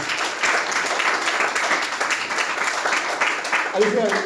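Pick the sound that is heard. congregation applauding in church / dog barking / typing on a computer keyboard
congregation applauding in church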